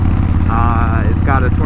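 A 2000 Kawasaki Vulcan 1500 Classic V-twin with Vance & Hines straight-shot exhaust and aftermarket air intake idles with a loud, steady low rumble, while someone talks over it.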